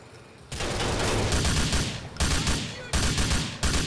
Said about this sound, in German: Ich bin noch nicht mal richtig da und der ballert schon.